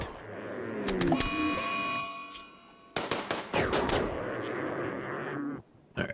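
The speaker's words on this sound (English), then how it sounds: "And get shooting." Colonists firing guns in RimWorld, with clusters of sharp, cracking shots in quick bursts, some rapid like automatic fire, over a steady background drone and metallic ringing tones.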